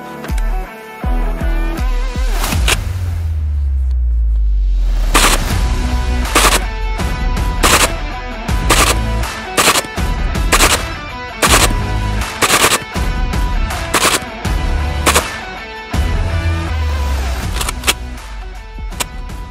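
A SHAK-12 bullpup assault rifle fires a string of loud subsonic 12.7x55mm rounds into a brick wall, sharp cracks coming in irregular bursts and single shots, each with a booming low tail, close and dominant with no talk.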